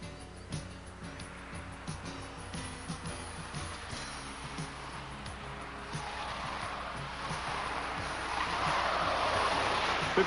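A Datsun Turbo car speeds past during a timed speed test, its engine and road roar building steadily and growing louder toward the end as it nears, with no talk over it.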